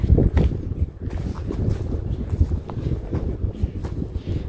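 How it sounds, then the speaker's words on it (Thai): Strong storm wind blowing across a beach, roaring and buffeting the microphone in loud, uneven gusts, with faint rustling and crashing surf underneath and no voices. "ลมแรงขนาดไหน แรงมากเลยนะตอนเนี้ย"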